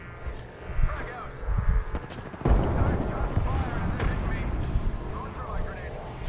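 A frag grenade explodes in Apex Legends with a sharp, heavy blast that is followed by a rumbling tail, set among scattered gunfire and battle noise while a voice talks throughout.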